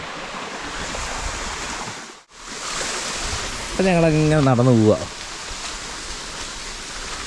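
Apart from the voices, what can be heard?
flowing water of a small forest stream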